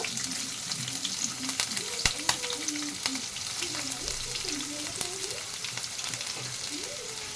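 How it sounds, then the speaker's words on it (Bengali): Sliced onions with a bay leaf frying in a pan, a steady bright sizzle with occasional spoon knocks and scrapes, accompanied by faint tonal background sounds and no clear talking. "পেঁয়াজটা হালকা করে ব্রাউন করে নেব আমি"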